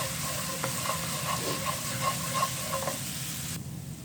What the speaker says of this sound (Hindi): इसको थोड़ा फ्राई कर लेंगे ताकि जो लहसुन का कच्चापन होता है वो ख़त्म हो जाए।